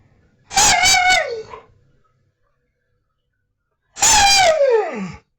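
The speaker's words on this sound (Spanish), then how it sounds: "Era un perro que aullaba mucho." A dog with separation anxiety, one that howled a lot when left alone, gives two drawn-out, pitch-falling howling cries about three seconds apart, loud and close, with silence in between.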